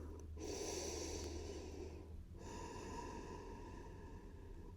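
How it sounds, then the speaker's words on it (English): Deep, slow breaths during a gentle floor yoga session for back mobility, a steady airy inhale and exhale with a brief pause near the middle, close and continuous with no talking. "take a big deep breath"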